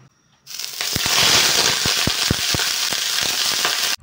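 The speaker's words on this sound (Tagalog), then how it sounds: "apakasarap sa tenga nung ikinarga na natin ang leeg ng ating nokma" Chicken necks drop into a smoking-hot oiled wok and burst into loud, close sizzling, dense crackling spatter that holds steady for about three seconds before cutting off.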